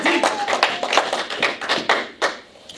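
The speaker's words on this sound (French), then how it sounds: "Acclamons pour le Seigneur Jésus." A church congregation at Adonai Tabernacle Church claps for Jesus in a quick, uneven run of sharp, close hand claps, loud and unaccompanied by talk.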